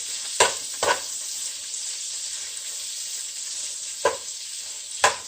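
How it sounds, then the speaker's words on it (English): Green beans sizzle in hot bacon fat, a steady close frying hiss broken by several sharp clacks as a spoon stirs and scrapes the pan. "we're just going to give it some good stirs to get the oil nice and incorporated into the bacon fat"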